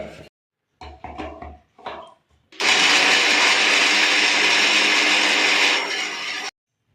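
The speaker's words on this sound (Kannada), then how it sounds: "ಇಷ್ಟನ್ನು ನುಣ್ಣಗೆ ಪೇಸ್ಟಾಗಿ ರುಬ್ಕೊಂಡು ಬರೋಣ." A mixer grinder pulses briefly a few times, then runs loudly and continuously for several seconds, whirring as it grinds onion, tomato and coriander leaves into a paste, and stops abruptly.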